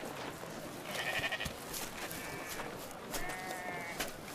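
Several sheep bleat in turn, wavering calls of about half a second each over a noisy outdoor background, fairly close and repeated three or four times.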